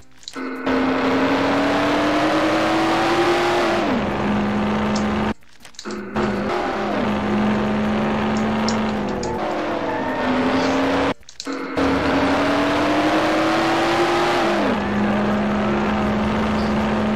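A car engine in the video game Mafia revs loudly in repeated cycles, rising in pitch and then dropping as the gears shift, with brief cutouts between stretches of steady driving.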